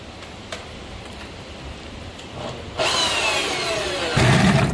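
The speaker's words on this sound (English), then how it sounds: "Got this little hole saw here." A hole saw grinds and rasps through thin aluminum, the harsh cutting noise growing louder and rougher partway through and surging again near the end.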